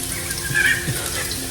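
Hot oil sizzles and crackles steadily in a pan while making pork curry, a close, continuous hiss with a few brief pops.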